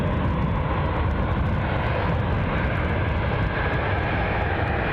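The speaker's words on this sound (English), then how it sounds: "some good early morning action for us with this Ryanair 737" A Ryanair Boeing 737 jet roars at an airport in the early morning, a loud, broad, continuous engine rumble that holds steady throughout, with no speech.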